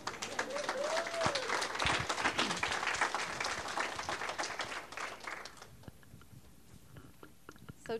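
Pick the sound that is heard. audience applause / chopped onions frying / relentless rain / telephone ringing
audience applause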